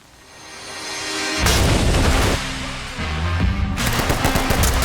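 Gunfire and a grenade blast in the tactical shooter Ready or Not or Zero Hour: rattling bursts swell into a loud booming roar, drop back, then erupt again in heavy overlapping reports.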